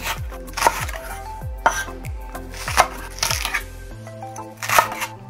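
A kitchen knife cuts vegetables in half on a cutting board, giving about five sharp, close chops at a steady rhythm, each followed by a short resonant ring, with no talking over them.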